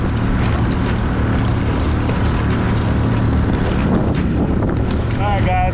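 A boat pushes through choppy open water in strong wind, with a loud, steady roar of wind and hull noise running throughout and no clear break.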